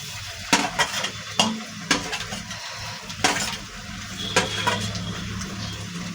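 Ginger-garlic paste hits a pan of browned onions for a meat curry, giving a steady sizzle broken by repeated stirring scrapes and clinks of a utensil against the pot.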